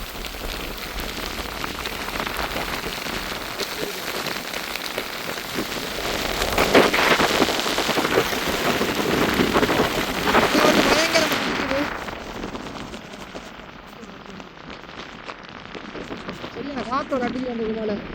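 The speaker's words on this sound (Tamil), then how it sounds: "மழை தான் கொஞ்சம் பயங்கரமாக பெஞ்சு கொண்டிருக்கு" Heavy rain pours down during a flood in Vaatharavaththai, Jaffna, a dense steady roar of drops hitting surfaces with gusts of wind, swelling louder midway, while someone talks over it.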